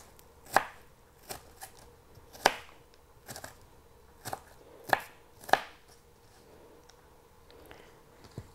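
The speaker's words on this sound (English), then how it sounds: "to slice my onions, I cut slices and then I go almost to the end" A knife slices onions on a cutting board in about a dozen crisp, irregular chops, each a sharp close knock with short quiet gaps between, no voices.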